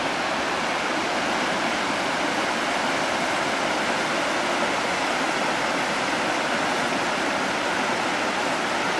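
The Rogue River's flowing water makes a steady, broad rushing roar that stays constant and close throughout, with no voices.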